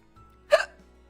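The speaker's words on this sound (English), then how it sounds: "I have the hiccups" A single sharp hiccup from a person, short and fairly close, standing alone against a quiet background.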